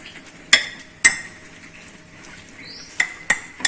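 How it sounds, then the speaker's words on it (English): Noodles being mixed into beaten egg in a bowl, sharp clinking strikes of utensil against the bowl at irregular intervals over quiet soft stirring. "Now I'm going to add all this noodles here to the egg. Now we are going to give it a nice mix."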